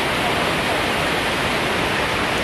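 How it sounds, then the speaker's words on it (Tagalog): Golden Waterfall in Taiwan pours as a dense, constant hiss of falling water, loud and unbroken throughout with no voices. "Golden Fall. Waterfall. Golden Waterfall. Ayun siya."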